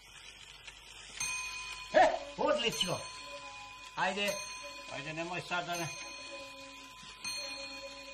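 A homemade bell hung on a wall rings with a bright, sustained metallic tone that lingers through the clip. Excited voices talk over the ringing.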